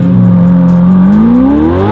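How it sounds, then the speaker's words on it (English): Ferrari F8 supercar fitted with sport cats and a flap-actuated Novitec rear muffler, flaps open, revving hard up close, a loud continuous engine roar whose pitch climbs steadily through the rev. "This car is fitted with sport cats and, of course, with a Novitec rear muffler. That, as well, is flap actuated. Flaps are open at the moment."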